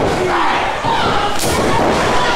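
A pro wrestler's body hits the ring mat on a sunset flip, a dull thud buried in a loud, continuous roar of crowd noise.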